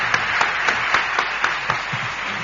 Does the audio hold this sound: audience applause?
yes